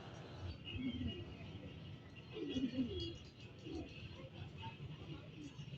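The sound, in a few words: racing pigeons arriving, cooing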